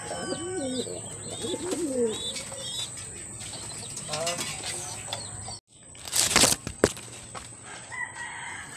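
Taiwan-style pigeons in a loft coo repeatedly at close range, mixed with a rooster crowing and faint background voices, then a brief louder rustling burst near the end.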